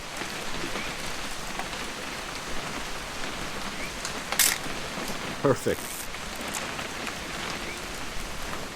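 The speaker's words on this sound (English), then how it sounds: "It's gonna rain the whole weekend" Steady rain falling in the video game What Remains of Edith Finch, a dense, even hiss throughout with a few brief sharper taps, while a voice speaks briefly over it.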